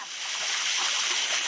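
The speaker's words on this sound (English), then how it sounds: "we're now at the waterfall, and I'm taking a little bit of a bath" Rushing waterfall at the end of a hike, a dense steady hiss of falling and splashing water close by, continuous and loud for a short stretch with no voice.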